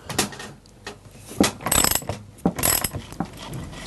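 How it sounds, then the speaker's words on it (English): A ratchet with a 13mm socket undoes the clutch cover nuts on a chainsaw, making crisp, close bursts of clicking that stop and start in short, uneven strokes. "I just need to undo these 2 nuts which are holding on the clutch cover, just using a 13mm socket."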